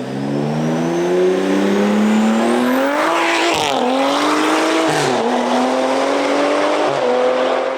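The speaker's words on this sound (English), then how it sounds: "The car accelerates fast as hell" A big-turbo BMW F30 335i accelerates hard through the gears, its engine note rising loud and close with brief dips at the shifts and a turbo whistle on top.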